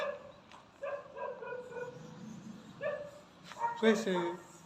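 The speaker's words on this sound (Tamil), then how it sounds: "நாய் ஒழிக்குது பார்த்தீங்களா?" A dog whines and howls outside an apartment in drawn-out, wavering cries at a moderate distance, with a person talking over it.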